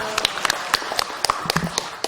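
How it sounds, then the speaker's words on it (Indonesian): An audience applauds Minister Nadiem at an education event in a short burst of sharp, fairly close, sparse handclaps, with faint voices underneath. "Mas Nadiem, tepuk tangan untuk beliau"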